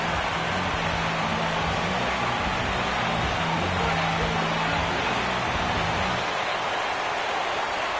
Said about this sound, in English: The rain, as we've mentioned, coming down fairly steadily here at game time.